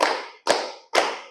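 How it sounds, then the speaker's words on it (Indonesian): Classroom pupils clap together in unison three times, each loud clap evenly spaced and ringing briefly in the room, with no talking. "Tepuk 1. Tepuk 2. Tepuk 3."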